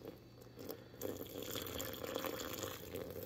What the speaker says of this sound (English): Try and get some of that water to get onto the tea bags themselves.